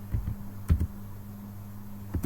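A few soft, close keystrokes on a computer keyboard, about five taps with short gaps, over a faint steady hum.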